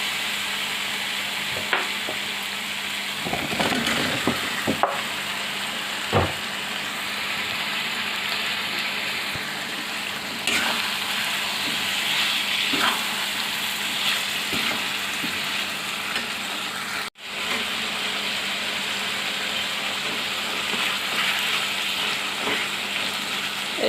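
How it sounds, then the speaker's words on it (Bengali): Beef liver stirred into spices frying in oil, a steady close sizzle with scraping stirring noises throughout and a brief thump partway through, no voices. "এখন আমি এর মধ্যে ধুয়ে রাখা কলিজাগুলো দিয়ে নেড়েচেড়ে মশলার সাথে মিশিয়ে নিব।"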